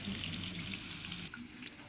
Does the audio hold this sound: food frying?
yes